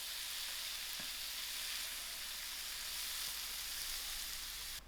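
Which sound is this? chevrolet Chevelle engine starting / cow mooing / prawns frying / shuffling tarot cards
prawns frying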